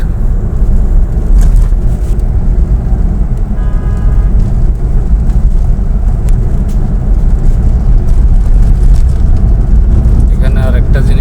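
Steady, loud traffic roars along the Mymensingh highway road at Bhabanipur market, a dense continuous rumble of passing vehicles with a brief horn-like tone partway through.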